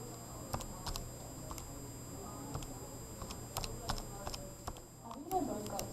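Quiet, steady taps on a computer keyboard come in an irregular rhythm while a function is entered, with low murmured voices and faint room hum in the background.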